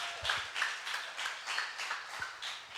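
Faint, steady rhythmic clapping from an audience applauding a participant, with claps landing roughly three times a second throughout.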